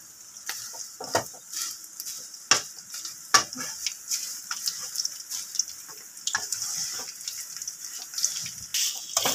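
Homemade hair oil simmers in a pan with henna and guava leaves, giving off a dense crackling sizzle broken by sharp pops and spits, with no voices over it.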